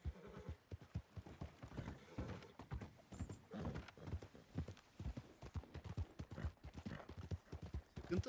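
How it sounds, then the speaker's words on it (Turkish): A horse in Red Dead Redemption 2 gallops with rapid, even clip-clop hoofbeats throughout, fairly close and steady, with a brief whinny-like creak and faint voices in the background. "Sıkıntı at korkuyor kaçıyor"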